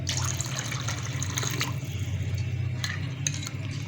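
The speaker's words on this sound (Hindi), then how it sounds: "इसमें हम पानी डालेंगे" Water runs steadily into a bowl of spice mix with tamarind and half a teaspoon of red chilli powder for pani puri, a soft continuous trickling and splashing close by with faint clinks.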